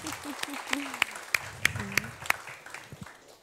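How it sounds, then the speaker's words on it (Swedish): An audience at a panel debate in Almedalen claps in sparse, separate claps, about seven or eight sharp ones spread over a few seconds, with a voice speaking underneath. "Och applåderna dånar"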